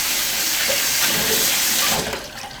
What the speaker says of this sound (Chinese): 我们再冲洗啊！